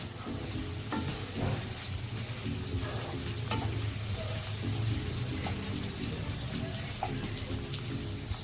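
Slit green chilies frying in hot oil in a pan for prawn biryani, a steady close sizzle with occasional stirring clicks and scrapes, no talk over it.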